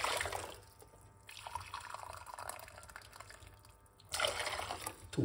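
Hot water pours in a home kitchen, a soft trickling and splashing that fades to quieter dribbles before a louder gush of filling near the end, close and fairly quiet.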